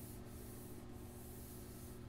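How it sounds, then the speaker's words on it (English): Sandpaper of 220 grit rubs across a guitar's finish, giving a continuous close scratchy hiss with slight strokes in its texture, heard alone without talk. "I'm sanding like with 220 or something"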